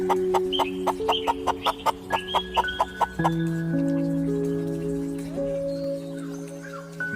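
Chickens on a permaculture farm with rotating grazing areas, giving a quick run of rhythmic close clucks that gives way to drawn-out calls and softer clucking.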